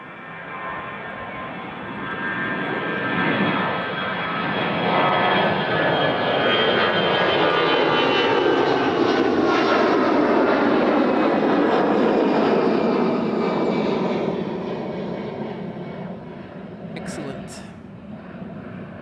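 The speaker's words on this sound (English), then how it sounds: "A320 headed to Quebec City" An Airbus A320 airliner bound for Quebec City roars at Toronto Pearson airport, its jet engine noise swelling and holding loud and close for most of the stretch before easing slightly at the end.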